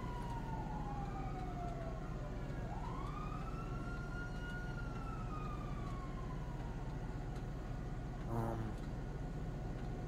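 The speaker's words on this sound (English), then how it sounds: "Shh, I hear sirens." Police sirens in the video game GTA, on the NoPixel roleplay server, wailing at a distance with a slow rise and fall over a steady low hum, ending in a brief closer burst.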